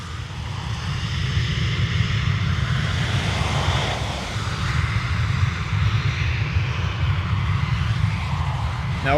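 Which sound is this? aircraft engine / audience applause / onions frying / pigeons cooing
aircraft engine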